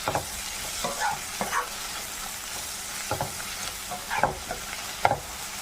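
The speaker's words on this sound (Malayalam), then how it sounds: "സബോള ഇവിടെ കിടന്ന് വഴലിട്ട് ഇതിലേക്ക് 1 ടേബിൾ സ്പൂൺ ഇഞ്ചി വെളുത്തുള്ളി പേസ്റ്റ്, 2 പച്ചമുളക് ഇട്ട് നല്ലോണം ഒന്ന് വഴറ്റിയെടുക്കും" Sliced onion stir-fries in a pan with ginger garlic paste and green chilies for chicken kurma, a steady close sizzle broken by repeated scraping stirs of a spatula, with no voices.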